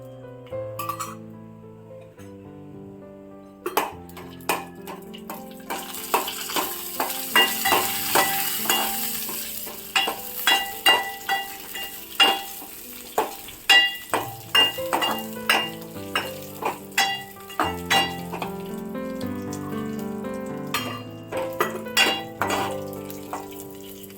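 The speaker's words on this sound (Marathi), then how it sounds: "ड्रायफ्रूट छान फ्राय करून घ्यायचे." Dry fruits fry in melted ghee in a pan for a sabudana vermicelli kheer, with scattered spoon clinks and stirring scrapes over a soft sizzle, all under prominent background music.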